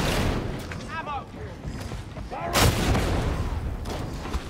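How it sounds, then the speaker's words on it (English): An explosive barrel blows up in the Darktide video game amid gunfire, with a sharp loud boom midway over a busy rumbling mix of combat shots and effects. "I blew up that barrel"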